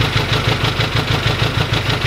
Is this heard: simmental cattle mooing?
no